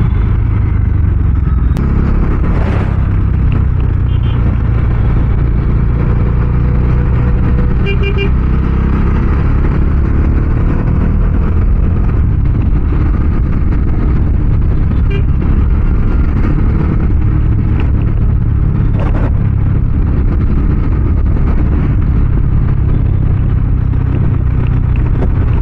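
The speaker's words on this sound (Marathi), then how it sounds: "पूर्ण जाम आहे यार हा रस्ता" Congested road traffic in a jam: a steady low rumble of idling and creeping car engines, with the occasional short horn toot and a brief rev, heard close and continuous for the whole stretch.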